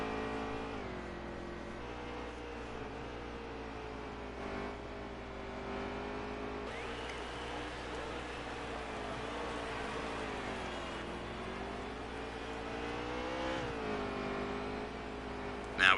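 Stock car engines drone steadily at Mid-Ohio in the NASCAR Heat 3 video game, a loud sustained whine that rises and falls with throttle through corners, close and continuous with no talk.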